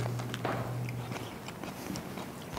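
Someone bites into a crunchy fried appetizer with fresh basil, dipped in sauce, making soft crunching and chewing sounds up close over a faint background hum.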